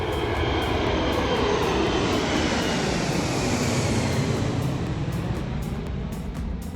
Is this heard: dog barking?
no